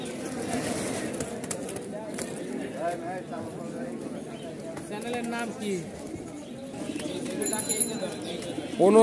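Pigeons coo repeatedly in soft, low bubbling calls at a busy pigeon market in Mirpur, heard under ongoing conversation among traders, with occasional clinks and shuffling nearby.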